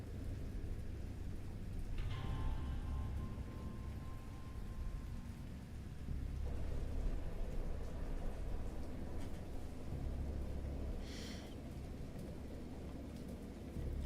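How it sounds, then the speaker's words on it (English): Rain falling steadily through a great storm, a soft constant hiss under low rolling rumbles of thunder, quiet and distant, with no voices. "I heard peals of thunder and other tones which nature utters only in her wildest moods"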